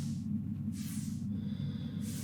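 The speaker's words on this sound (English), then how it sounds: "So I need to turn my jetpack on." A jetpack switches on in the space survival game Hellion with bursts of airy, hissing thrust, two or three short gusts over a constant low rumble, close and moderately loud.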